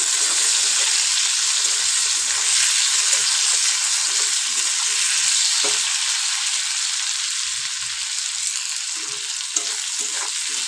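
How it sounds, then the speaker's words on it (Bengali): Slit green chillies and chopped tomato fry in oil in a wok, making a loud, continuous close sizzle that holds steady throughout with occasional faint stirring scrapes. "কাঁচা লঙ্কা চেরা, কিছুটা টমেটো কুচি দিয়ে আবারও খুব ভালো করে ভেজে নেব"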